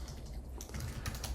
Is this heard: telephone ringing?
no